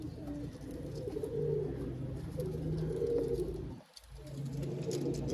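Pigeons coo steadily in a low, continuous murmur, with a brief dip in the middle before the cooing resumes, heard close and clear with no talking.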